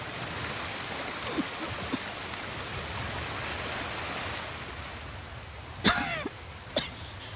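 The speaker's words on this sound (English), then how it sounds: "Uh-oh, she's coughing." A woman coughs a few times in the video game Ghost of Tsushima, sharp and close, over a soft steady hiss of ambient background noise.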